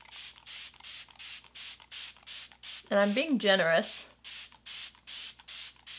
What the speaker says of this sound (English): So I'm just gonna spray the entire face.